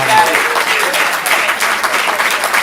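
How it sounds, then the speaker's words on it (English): Comedy club audience at a stand-up class showcase bursts into steady, dense applause and clapping, loud and sustained throughout with no talk over it. "Give them a round of applause, ladies and gentlemen."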